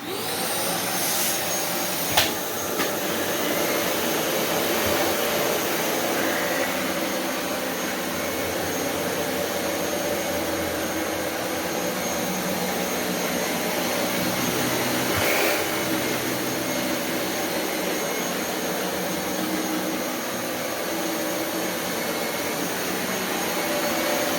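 Dyson Cinetic Big Ball UP14 upright vacuum cleaning carpet across a whole house, a loud steady motor whine running continuously, with a few brief clunks as it is pushed and swivelled.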